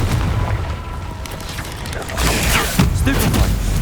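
A Confringo blast spell explodes in the Hogwarts Legacy video game, a loud booming burst that swells in the second half amid sharp crackling impacts.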